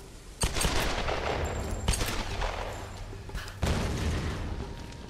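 Gunfire from the 2013 Tomb Raider video game, a dense burst of sharp shots and booms with a few louder cracks standing out over a continuous rumbling game soundscape.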